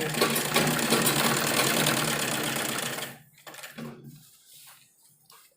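A sewing machine runs loud and close for about three seconds while stitching a kurta, then stops, leaving soft handling clatter and faint rustling.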